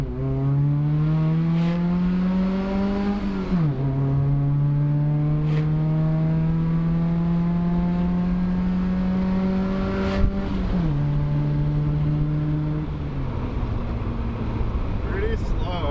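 A 2800 lb Volvo 740 with a 120 hp engine accelerating hard through the gears, its engine note climbing steadily and dropping sharply at each upshift, loud and close.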